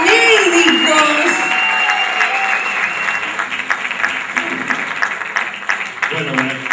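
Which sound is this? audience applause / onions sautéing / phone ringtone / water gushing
audience applause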